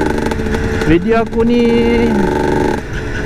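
Yamaha TZM motorcycle engine running loud and close, with a rising rev partway through that then settles back, under someone talking over the noise.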